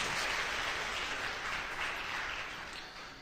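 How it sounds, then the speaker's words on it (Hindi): Congregation applauding during a church worship service, a soft, steady, distant patter of clapping that stays even before gently fading toward the end. "तालियां बजाएं उसको, धन्यवाद।"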